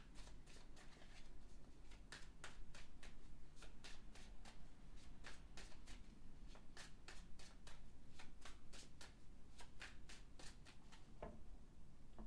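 Tarot cards are shuffled repeatedly, a string of crisp riffling bursts close by, with faint background noise and no speech.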